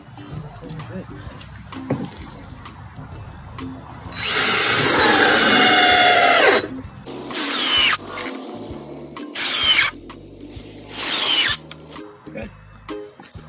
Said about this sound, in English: we just drill the holes through the bottom so that we can put the rebar in